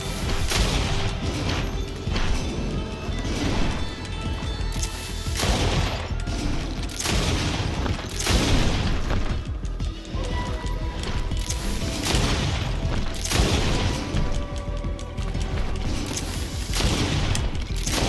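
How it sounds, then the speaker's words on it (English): Sustained gunfire from the video game GreedFall: dense, loud volleys of shots and heavy booms run continuously for about eighteen seconds, with metallic crashes mixed in and no break in the barrage. "Nothing but gunfire."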